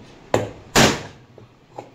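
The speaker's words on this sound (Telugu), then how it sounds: "హ్యామర్ తీసుకొని ఏదైనా ఒక బోల్ట్ పెట్టి పైనుంచి కొడితే బేరింగ్ ఊడొస్తుంది." A hammer strikes a bolt held against a ceiling fan bearing to knock it loose, giving two sharp, loud metallic blows close by, the second heavier and ringing longer, followed by faint light taps.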